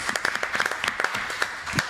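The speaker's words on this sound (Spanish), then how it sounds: "Un aplauso para Fero." Studio audience applause for a guest on a talk show panel, a short burst of scattered claps, moderate and somewhat distant, with little talk.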